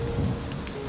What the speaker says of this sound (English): The rain was still falling.